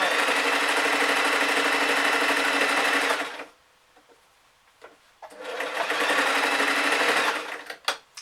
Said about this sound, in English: I've just gone over the start of the seam with a few stitches